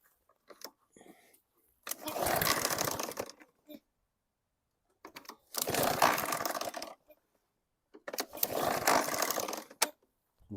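Three hard pull-starts on a 2017 Snapper lawn mower engine, each a rough two-second burst of cord rattle and sputter. The engine does not catch, and short quiet gaps fall between the pulls.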